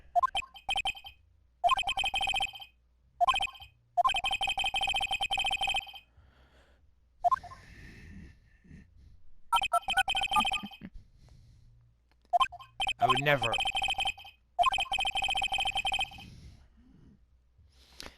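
A phone ringtone trills in repeated bursts with short gaps, fairly loud and electronic, while a voice speaks briefly between the rings.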